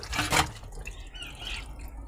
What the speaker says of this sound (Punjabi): ਇਹ ਪਾਣੀ ਪਈ ਜਾਂਦਾ ਹਾਂਜੀ ਇਦਾਂ ਪਾਣੀ ਪਈ ਜਾਂਦਾ